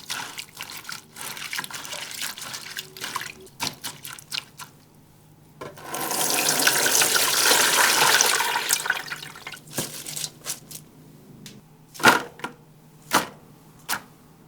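Cabbage strips are rinsed under running water, with a faucet gushing loudly for a few seconds amid clattering handling and rustling of the leaves, close by, with no talk.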